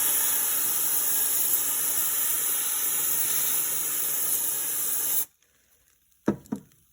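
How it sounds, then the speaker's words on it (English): Canned air held upside down blasts onto sculpting clay in one long, loud, steady hiss of about five seconds that cuts off abruptly, followed by a couple of brief clicks. "I'm going to hit it with my canned air."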